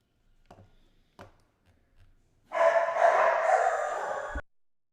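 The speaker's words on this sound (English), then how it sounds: "garbage man made my dogs bark" Dogs at home barking at a garbage man: a few faint short thumps, then a loud burst of rough barking lasting about two seconds before cutting off.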